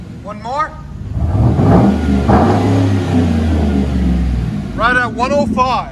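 A Chevy Avalanche with a 5.3L V8 and loud dual exhaust revs hard and rumbles steadily up close. Voices talk over the exhaust, with short whistling bursts near the start and end.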